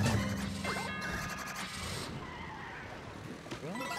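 A car in a Super Mario Maker 2 car level drives with steady engine hum, with sharp skidding squeals and a brief crash-like thud, while a commentator talks over the game sounds.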